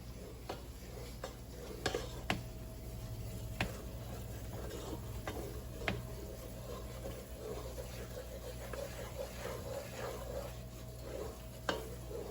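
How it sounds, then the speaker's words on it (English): Flour roux stirred in a pot until smooth for doubled-batch mac and cheese, giving a steady scraping swish with scattered sharp clicks of the utensil against the pot, close and moderately loud over a low constant hum. "So we're just gonna go ahead and keep stirring this until it becomes smooth."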